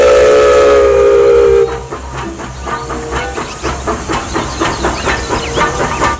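A loud, sustained steam whistle with hissing from a toy train cuts off, followed by rhythmic chugging and puffing of the small train running steadily nearby.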